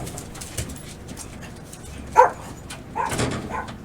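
A dog whimpers and gives a short, sharp yelp partway through, fairly close, over quiet room sound with no talking.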